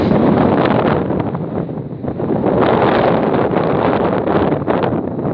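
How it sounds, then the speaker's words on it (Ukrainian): Gusty autumn wind rushes across an open field in the morning, a loud, continuous roar battering the microphone and swelling and dipping in uneven gusts, with no voice. "поривчастий вітер."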